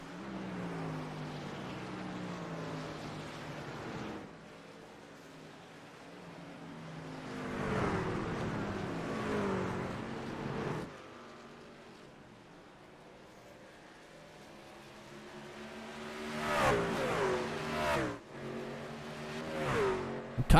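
Race trucks lapping the Watkins Glen road course: engine drones swell and fade as trucks pass, with revving and shifting near the end.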